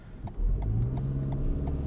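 A 2020 Toyota Highlander Hybrid AWD SUV pulls away from a standstill on battery power with a low, steady rising hum, a quiet smooth acceleration with little engine roar.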